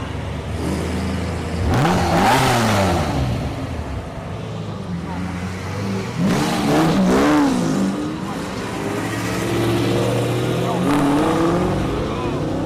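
Lamborghini sports cars rev and roar repeatedly nearby on a track, pitch climbing and falling in loud surges, with a constant engine drone between them.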